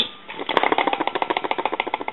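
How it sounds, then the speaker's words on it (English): A rattle inside a Conairphone Metropolis telephone handset, a rapid even series of small clicking taps heard close and alone for about two seconds. "there's a rattle in the handset"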